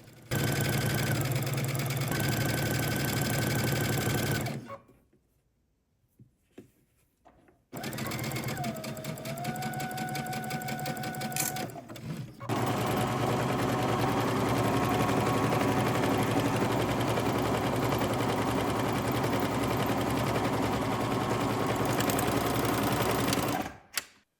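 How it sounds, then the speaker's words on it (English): A sewing machine stitching the inner leg and side seams of loungewear trousers, running in long steady whirring bursts with a brief quiet pause and a short shift in pitch in the middle. "We're going to go to the sewing machine, and from the bottom, we're going to sew up to the crotch on the inner leg"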